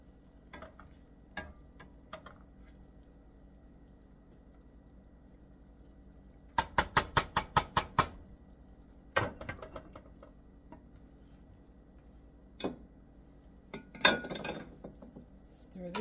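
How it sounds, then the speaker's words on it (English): A utensil stirring vegetables and eggs into quinoa in a simmering pan, with a rapid string of clinking scrapes against the pan amid scattered taps and knocks, close and moderately loud. "Stir this up and let it finish simmering in here."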